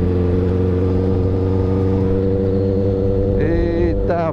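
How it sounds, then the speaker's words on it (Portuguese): A motorcycle engine, from a ride on a Honda Hornet, drones steadily and close, with a brief rising rev near the end. "os caras gostam de barulho da moto"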